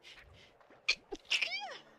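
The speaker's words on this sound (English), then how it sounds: "I'm gonna sneeze more." A single sharp sneeze from a person who is sick, with a short intake of breath before it and a bit of voice around it, close and fairly quiet.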